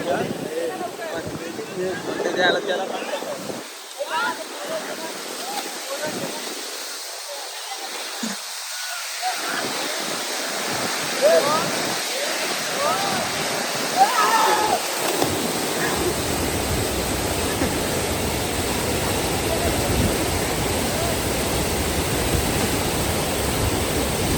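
Water rushes strongly and continuously at Kondeshwar, a broad roaring wash that keeps up throughout, with faint voices mixed in.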